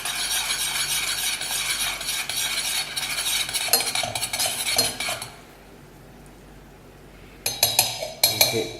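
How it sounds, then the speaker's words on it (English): A utensil stirs popcorn through butter caramel in a pan, giving a steady scraping, rustling clatter for several seconds, then a quiet pause before a few sharp clinks and scrapes resume. "I'm going to dip the popcorn back into the caramel and we'll start stirring it around and coat it"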